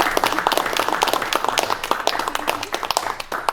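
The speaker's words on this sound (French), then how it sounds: "On peut vous applaudir." Audience applause at a Lions Club presentation of youth projects in Nogent, a dense, steady patter of many hands clapping close by, with faint voices mixed in.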